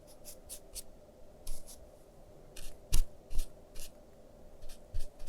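A paintbrush strokes watercolor across paper in short, separate scratchy sweeps with quiet gaps between them, close and soft, one stroke noticeably sharper than the rest.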